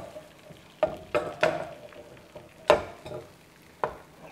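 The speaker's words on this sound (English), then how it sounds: "I like to add a layer of egg first. And then smooth it around the pan." Beaten egg for a ham, cheese and tomato omelette fries in a pan, soft sizzling behind several sharp scraping spreads and taps of a utensil at irregular intervals, close and unaccompanied by speech.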